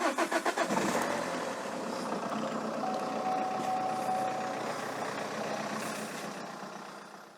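A Vauxhall Insignia 2.0 TDCi diesel engine starts with a few quick cranking pulses, then settles into a steady idle as it warms up, running close and even before fading slightly.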